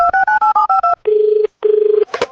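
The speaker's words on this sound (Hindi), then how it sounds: "उसने उस नंबर पे फोन लगाया।" A telephone dialing a number: a quick run of about seven touch-tone key beeps, then two longer steady tones separated by a short gap, all loud and close with no talk.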